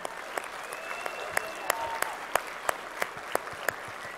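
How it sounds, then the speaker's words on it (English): An audience at a game studio keynote event claps for the Landmark and EQ Next development team, a fairly quiet, steady patter of distinct claps that carries on evenly, with faint crowd murmur underneath. "give them a round of applause"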